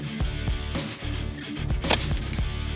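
An outdoor shot from a BroCock Commander air rifle cracks out sharply near the middle, set against steady background noise, with no speech.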